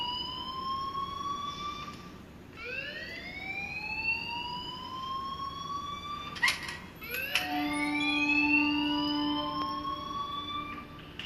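A school alarm in Life is Strange rings as repeated rising electronic wails, several long sweeping tones with short gaps, steady and fairly loud over a low background hiss.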